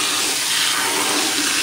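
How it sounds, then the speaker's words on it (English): Water pours out of a tub in one steady, close rush while aquarium gravel is rinsed during setup of a large Aquael Glossy aquarium, with no voices. "then you want to tip out the water till it's clean"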